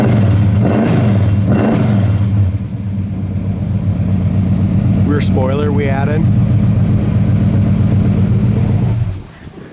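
A 1970 Pontiac Le Mans convertible engine rumbles steadily through its dual exhaust, loud and close for most of the span, with someone speaking briefly over it before the engine note cuts off near the end.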